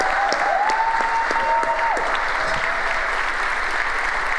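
Audience applause after an entrepreneur's pitch at a summit showcase, dense steady clapping filling the room, with a brief tonal electronic tone sounding over it early on.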